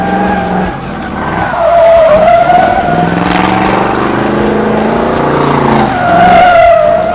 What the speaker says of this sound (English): Slid all over the place and had a good time.